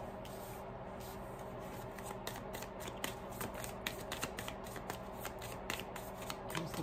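Tarot cards are shuffled and drawn by hand, a close, quiet run of papery flicks and riffles with small irregular taps throughout.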